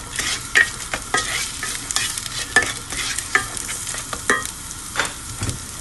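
Onion, garlic and bay leaf sautéing in a pan for fish rice, with steady close sizzling and repeated sharp scrapes and clicks of a spoon stirring against the metal.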